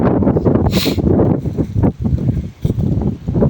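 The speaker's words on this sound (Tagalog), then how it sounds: "Mahangin na naman." Steady, gusty wind buffets the microphone, a loud broadband roar with brief lulls, no voices present.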